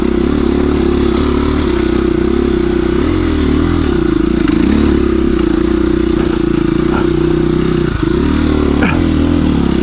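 A KTM 350 EXC-F dirt bike engine runs loud and close on gravel with a steady, continuous drone that rises and falls slightly for the whole stretch, with a few scraping clatters.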